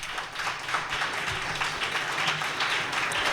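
A church congregation claps their hands during a Tamil worship service, a dense, steady wash of many hands clapping together for several seconds with a faint murmur underneath.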